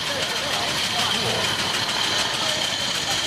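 Steady, rumbling engine idle from a 20-horsepower veteran car at Brighton, running continuously close by while people talk over it.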